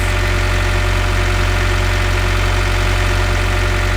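A sailboat's engine runs steadily at a constant pitch after a new sea strainer is fitted, a loud, close, even drone with a rhythmic low throb throughout.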